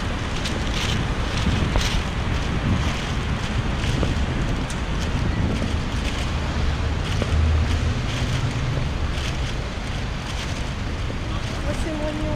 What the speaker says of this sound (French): Il y a du vent, ça fait un bien fou.